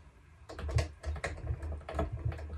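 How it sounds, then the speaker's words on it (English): Semi-weighted keys on an M-Audio Keystation 61 MK3 MIDI keyboard pressed with the sound turned down, leaving only soft mechanical clacks and thumps of the keys. The taps come close in an irregular run of several presses, with no voice. "The keys are semi-weighted, so they spring back up pretty much instantly"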